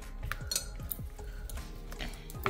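A spoon stirs a cinnamon mixture for Nutella oats bars in a bowl, with steady close clinks and scrapes of metal against the dish through the whole stretch.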